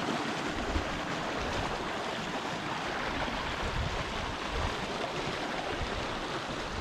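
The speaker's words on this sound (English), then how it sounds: "there's the overflow coming from the loch. It's a crazy wee waterfall" A small waterfall at the overflow from a Scottish loch in Glenisla, producing a steady, dense rush of falling water that is close, fairly loud and unbroken, with no voices.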